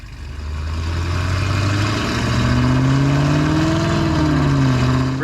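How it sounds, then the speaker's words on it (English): A Cadillac CT5-V Blackwing fitted with headers and an aftermarket exhaust pulls away under steady acceleration. Its deep engine note rises in pitch through a gear, loud and close, with no voices over it. "Really sounds great with the headers and the exhaust, but not overly loud, right?"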